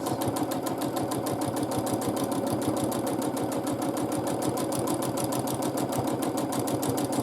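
A sewing machine free-motion quilting feathers runs steadily for the whole stretch, its needle hammering in a fast, even rhythm with a constant mechanical hum, close and alone with no voices.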